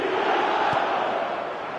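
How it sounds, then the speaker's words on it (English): Stadium crowd roar in the football video game eFootball 2026, a steady, dense wash of cheering and chanting that stays loud and continuous throughout with no distinct voices standing out. "Now the crowd are demanding that they just finish this off."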